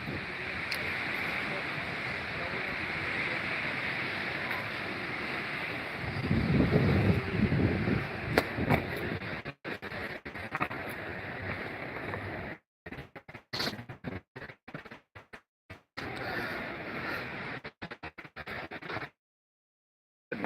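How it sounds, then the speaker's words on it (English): Wind blowing outdoors at Beacon Rock State Park, a steady rushing roar with gusty buffeting, later breaking into choppy dropouts and brief silences. "the wind's blowing from the east, so it's still blowing when it's over here"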